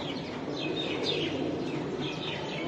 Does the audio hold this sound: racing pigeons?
yes